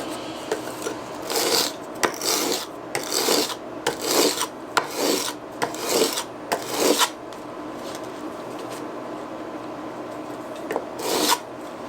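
A Stanley Handyman wood hand plane being rubbed on coarse sandpaper to remove gouges, giving a series of close, loud rasping strokes in an irregular back-and-forth rhythm with short pauses between them.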